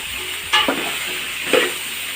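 Sambar ingredients being stirred in a pot over a steady sizzle, with two distinct scraping strokes of the spoon about a second apart, close up and without speech.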